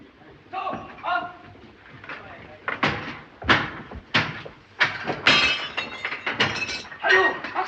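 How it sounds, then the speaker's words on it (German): Wooden storage compartments are smashed and broken open in a 1931 thriller, with loud splintering cracks and heavy bangs in rapid succession under excited shouting voices. "Die Verschläge aufbrechen!"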